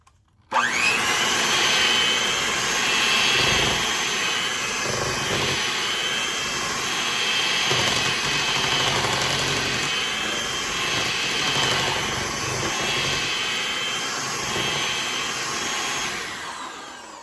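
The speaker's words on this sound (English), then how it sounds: "So let's try a little mixer action here." An electric hand mixer starts abruptly and whirs loudly and continuously up close, its high motor whine wavering slightly as it works.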